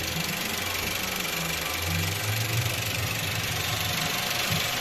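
A 2014 VW Passat B7 1.8 TSI engine idles steadily up close after a timing chain replacement, a continuous low rumble with an even, slightly knocking rhythm and no talking.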